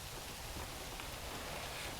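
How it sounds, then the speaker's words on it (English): Steady rain in the prison-building game Prison Architect, a continuous soft hiss of falling drops spread evenly across the whole stretch, fairly quiet and with no talking over it. "It's raining."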